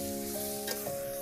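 Amla pieces poured into hot oil with fried spices in a wok, a short burst of close, steady sizzling that swells briefly as they hit the oil.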